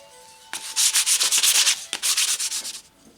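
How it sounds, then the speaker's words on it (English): Brisk back-and-forth sanding of wooden salad tongs, a steady series of rhythmic abrasive strokes with a brief pause partway through, close and fairly loud. "So we'll do our final little sanding"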